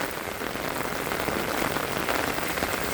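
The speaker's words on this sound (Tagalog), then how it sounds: "Malakas ang ulan." Heavy rain pours down steadily, a dense, continuous hiss of drops drumming on surfaces close by.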